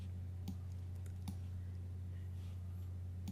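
A computer keyboard gives a few isolated, soft key clicks, spaced apart over a constant low electrical hum.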